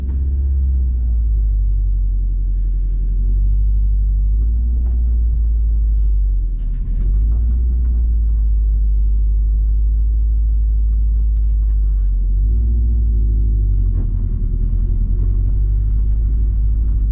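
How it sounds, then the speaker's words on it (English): A car engine rumbles steadily from inside the cabin while driving, a loud continuous low drone with road noise and no talking. "In the car, driving the car."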